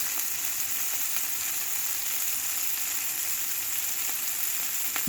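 Kokoreç, grilled lamb intestines, sizzles steadily in a pan, a dense and constant hiss of frying with no talk over it.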